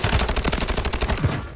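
Rapid automatic gunfire in Call of Duty, a loud, close burst of evenly spaced shots rattling for over a second without pause.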